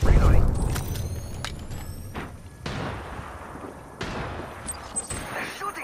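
Apex Legends gunfire on PS4 Pro crackles in bursts amid a busy firefight, with a heavy volley at the start and sharper shots recurring through the clip, mixed with other game effects and voices.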